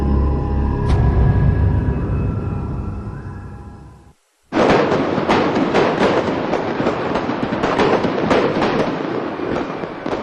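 Holiday fireworks bursting at the Golden Temple in Amritsar, a dense, loud barrage of crackling pops and booms that runs almost continuously after a brief silent gap, with a low rumbling roar underneath.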